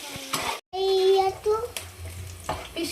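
Green chillies and onion frying in a pan for a traditional fish curry, a steady close sizzle with stirring, interrupted by a brief silent gap, with a few spoken words over it.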